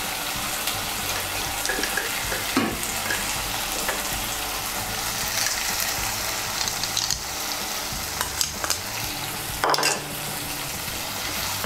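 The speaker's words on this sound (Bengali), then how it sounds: "টক দই আর গুঁড়ো মশলাগুলোকে ভালো করে মিশিয়ে নেব। মিশিয়ে নিয়ে মশলাটাকে এখন ভালো করে কষিয়ে নেব।" Spice masala paste with sour yogurt frying in a pan for dhaba-style egg curry, a steady sizzle broken by intermittent spoon scrapes and stirring knocks.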